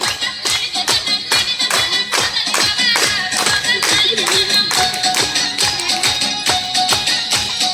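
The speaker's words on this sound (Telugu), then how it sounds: "claps కొడండి claps కొడండి" Children clap in a steady rhythm at a birthday celebration in an ashram, close and loud, over a tonal musical backdrop.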